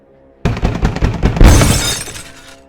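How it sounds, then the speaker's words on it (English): Loud pounding blows on window glass, a burst of heavy hits that ends in a crashing, shattering spray of glass before ringing out; a stand-alone sound effect for a scary story. "I realized it sounded like a fist being pounded against glass."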